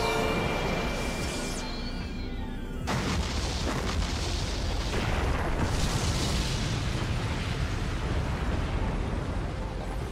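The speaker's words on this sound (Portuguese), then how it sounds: "Explodiu." A big explosion from an anime fantasy episode, a dense, loud rumbling roar that fills the whole stretch and keeps going without letting up, with no voices heard.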